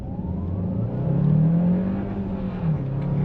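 A 2025 Hyundai Santa Fe Hybrid driving in sand mode, its engine droning steadily from inside the cabin and rising and falling in pitch as it pulls through the gears, with no talking.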